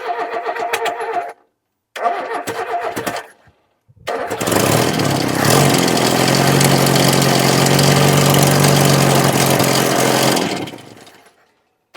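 An old Ford Courier pickup engine that sat unused for 30 years is cranked. Two short cranking bursts are followed by a long, loud, sustained churning roar, which then winds down and stops.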